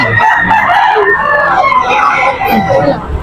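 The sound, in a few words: rooster (stag gamecock) crowing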